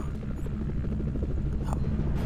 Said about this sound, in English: Uh-oh, an helicopter.